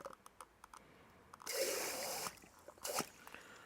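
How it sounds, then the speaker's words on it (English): Water poured into a jar over fermenting tomato seeds, heard as a short, close burst of splashing and gushing that stops, followed by a brief second splash amid faint drips. "I'm going to fill the jar"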